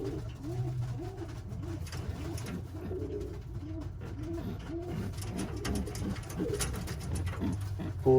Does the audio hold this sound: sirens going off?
no